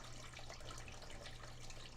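Water running steadily through a hand-designed Adventure Sluice from DreamMat while sluicing Lynch Mining Vulture paydirt for gold, a continuous close, even rushing wash with no voices.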